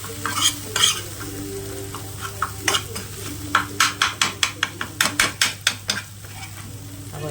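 Bheja fry, goat brain, being stirred and broken up in a sizzling pan, a quick run of sharp spatula scrapes and taps against the metal over a soft steady fry.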